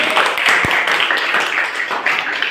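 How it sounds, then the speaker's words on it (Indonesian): Applause for Tini, a crowd clapping steadily and densely throughout, fairly close and sustained, with a single sharper clap standing out near the start. "tepuk tangan dong untuk Tini"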